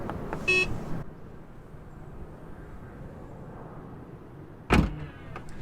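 The power trunk of a 2021 Tesla Model 3 Performance closes after a button press: a brief motor whir, a long quiet pause, then a sharp close latching thump.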